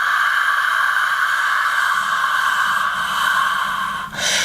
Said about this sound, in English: if you imagine your hand is a mirror and you want to fog the mirror, you want to steam the mirror up, you would make a sound like this